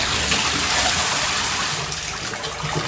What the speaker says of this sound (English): And I will turn on the diverter.